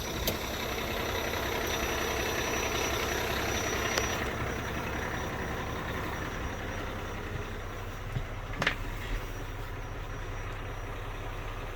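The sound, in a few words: Mack Titan truck engine idling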